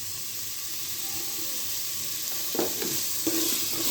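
Salted vegetable biryani mixture is stirred in a pot, a steady sizzling hiss with a couple of soft scraping stirs toward the end, close by and without speech.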